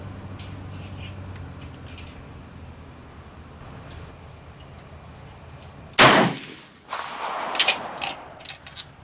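A single loud, sharp shot from a Swiss Private Series K31 rifle at an outdoor range cracks out after a quiet stretch, followed closely by metallic clanks and rattles.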